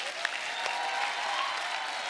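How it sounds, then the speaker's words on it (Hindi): Steady applause from a studio audience on The Kapil Sharma Show, a comedy show, as a dense, even wash of clapping held at moderate distance for the whole stretch without a break. "एक बार जोरदार तालियां उनके लिए।"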